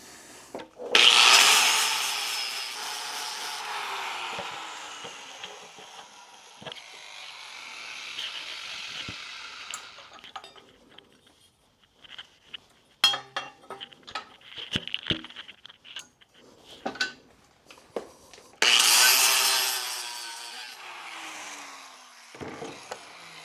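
Tool grinding or rasping out holes in a metal battery tray for an adventure trailer, long loud abrasive bursts at the start and end with clicks and shorter scrapes between.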